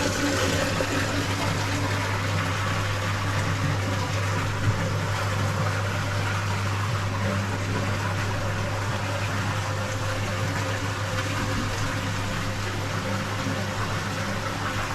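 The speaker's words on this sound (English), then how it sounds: "See the water disappearing through the bottom of the drum there" Water drains steadily out through the bottom drain of a koi pond drum filter during a purge, a continuous close rushing wash over a low steady pump hum, with no pauses.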